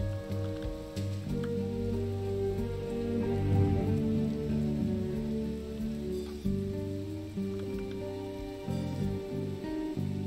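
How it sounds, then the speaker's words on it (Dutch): Steady rain patters on surfaces as a character walks through it in the video game Last Stop, a constant wash of drops layered under a sustained musical score. "Lekker door de regen lopen."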